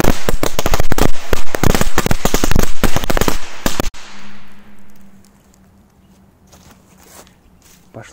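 A long rapid string of loud firecracker bangs crackles for about four seconds, then stops abruptly, leaving a faint low hum and quiet background.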